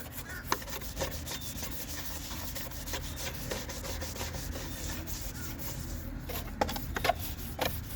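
A stiff bristle brush scrubs an oil- and grime-covered car part in a steady rhythm of rasping strokes, close and moderately loud, with occasional sharper scrapes and no talk.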